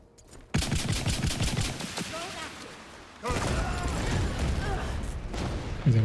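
Weapon fire and explosions from a video game, including a special weapon, missile launcher and grenade launcher, burst out loud and continuous after a brief quiet start, with a second heavier barrage midway.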